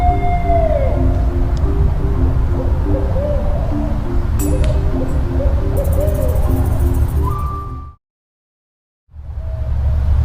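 Repeated owl hoots in a regular pattern over a dense night backdrop in a stop-motion movie soundtrack, loud and close, with brief whistling sounds, a sudden drop to silence near the end, then the ambience returning.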